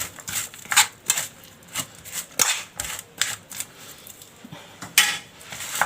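Mackerel being stirred with salt in a baking tray, giving a series of uneven scraping and clinking strokes that come close and moderately loud, with no talking.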